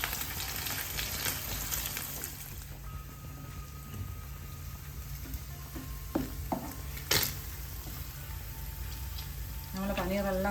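Paneer frying and sizzling in a pan as the pieces are flipped, a steady close crackle with a few sharp clinks and scrapes of a utensil.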